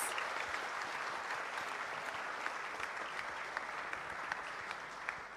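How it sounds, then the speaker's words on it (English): Audience applause for a conference panel at a business summit, steady dense clapping sustained throughout at moderate distance, with no voices over it. "A huge round of applause for our panelists."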